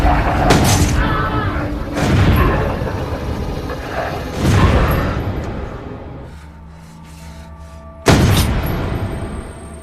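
Several heavy gunshots in a zombie film ring out, loud booming blasts spaced a couple of seconds apart, with echoing tails and a final sharp shot near the end.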